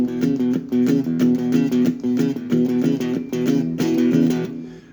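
Guitar chugging a boogie blues 12-bar riff in E, a steady shuffling rhythm of repeated low notes with accented strums, close and alone throughout.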